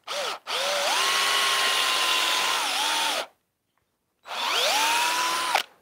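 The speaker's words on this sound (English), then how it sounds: "I just literally just drilled a small hole there." A power drill bores a small pilot hole in wood in a workshop, whining loudly for about three seconds, stopping briefly, then running again for a second burst near the end.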